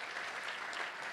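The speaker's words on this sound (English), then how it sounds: "give her a round of applause" Brief, dense applause from a club luncheon audience at a touchdown club meeting, a steady wash of clapping with no break and no voices over it.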